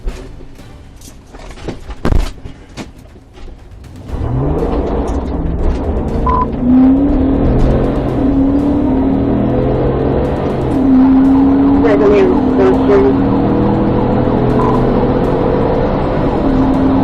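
A Dodge car pulls away from a police stop, engine starting then accelerating hard with rising gear whines and road roar, loud and close, with voices and radio chatter underneath.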